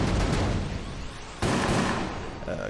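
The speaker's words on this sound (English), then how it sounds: "And explosions!" Explosions boom in the video game Enter The Gungeon. Two dense, noisy blasts fill the mix, one at the start and a sharper one midway, each trailing off into rumble.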